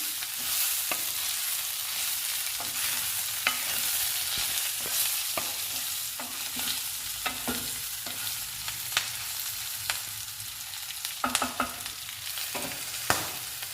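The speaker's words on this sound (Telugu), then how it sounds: "ఫైనల్గా చింతపండు వేసుకుందాము. ఒకసారి కలుపుకుందాము." Tamarind is stirred into ivy gourd and green chillies frying in a pan, giving a steady sizzle with repeated scraping clicks of the spoon throughout.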